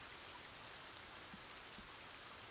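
Rain falls steadily in the Sons of the Forest survival game, a soft, even hiss that holds throughout with no voices.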